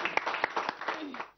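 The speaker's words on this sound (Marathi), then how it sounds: "आपण सगळेजण जे आलेले आहोत ते टाळ्या वाजवून शुभेच्छा देऊया का?" A small gathering claps at a game event, giving brief, scattered, fairly faint applause that fades out within about a second.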